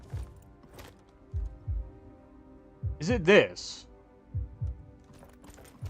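Low double-thump heartbeats pulse at a slow, steady pace in Skyrim (LoreRim), continuing beneath a brief spoken question in the middle.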